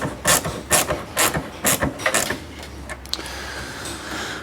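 Ratchet clicks in quick bursts as a bolt is tightened during a carbon fiber Eventuri plenum and intake install on a BMW E92 M3, a few rhythmic ratcheting passes close up followed by quieter mechanical handling noise.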